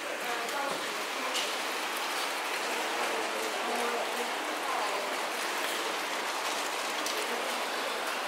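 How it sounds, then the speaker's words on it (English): Rain falls steadily near a temple in China where a new altar is being installed, making a continuous dense patter and hiss with scattered sharper drop hits throughout. "the rain is very much welcome because it's very polluted, so when it rains it clears up the sky"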